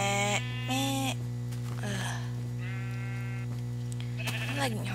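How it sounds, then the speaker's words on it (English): Sheep in Minecraft give several short, nasal bleats in quick succession, close and clear over a steady low electrical hum. "Sheep."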